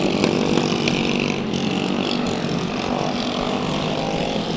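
Junior mini dwarf race cars racing at Bakersfield Speedway during a heat race, a loud, steady engine roar that stays close and continuous with no let-up.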